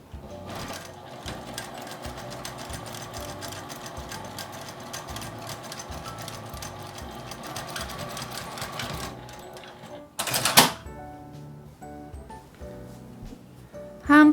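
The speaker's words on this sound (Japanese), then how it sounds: "アイロンをかけてカーブのところを縫います。" A sewing machine stitches around the curve of a fabric pen holder with a steady, fast mechanical whir for about nine seconds. It stops, then a brief clatter and a few soft handling sounds follow.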